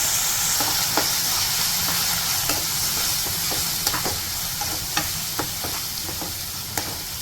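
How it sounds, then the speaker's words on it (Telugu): Red bean curry with turmeric fries in a pan, giving a continuous bright sizzle and hiss broken by frequent light scraping taps of a spoon stirring, close and without voices. "కలర్ చేంజ్ అయ్యేంత వరకు వేయించుకున్నాం."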